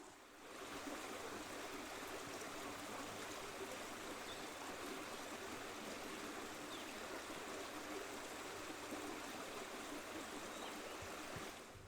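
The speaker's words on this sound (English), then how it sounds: "I hope the mic is picking it up over the little mini waterfall on the stream that I'm sitting next to" A little mini waterfall on a forest stream, a constant broadband rush and splash of falling water, close and even throughout, with no voices.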